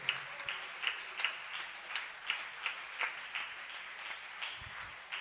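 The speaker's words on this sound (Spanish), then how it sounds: "¿Cuántos le damos un aplauso con mucha fuerza a nuestro Señor Jesucristo?" A congregation at a youth church service applauds, steady rhythmic clapping at a moderate distance, fairly faint and continuing throughout without talk.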